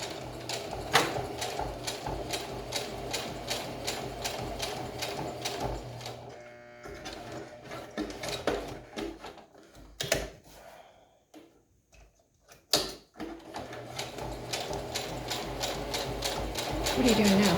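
A home sewing machine stitching fabric for a homemade face mask, a fast steady mechanical rattle that stops and restarts with short pauses, close up, while people talk over it.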